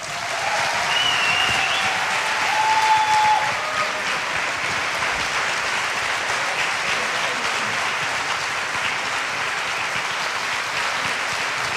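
An audience applauds at a lifetime-achievement concert, with a dense, sustained wash of clapping that holds evenly from start to finish, swelling slightly early on, and no speech over it.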